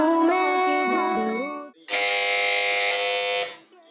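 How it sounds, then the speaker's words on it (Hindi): A quiz show buzzer pressed by a team on a children's program, two loud sustained electronic tones one after the other, the first wavering in pitch, with no talking over them. "तो इस बार सबसे पहले बजर बजाई है टीम बी ने"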